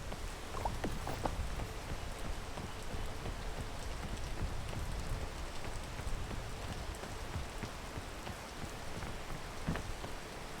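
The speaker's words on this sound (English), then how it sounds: "Also need to wait for the rain to go away too." Rain falls steadily in the video game Peak, a constant dense patter on surfaces with scattered sharper drops, close and even throughout with no voices.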